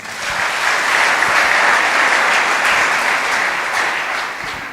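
A church congregation gives sustained, dense applause. It swells quickly, holds steady for several seconds, then eases slightly toward the end.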